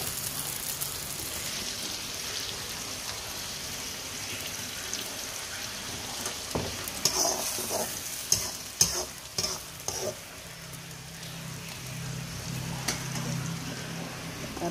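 Spice paste hitting hot oil in a pan for a stir-fried chili fish dish, a steady loud hiss and crackle of sizzling with intermittent stirring scrapes and spatters, close up and without voices.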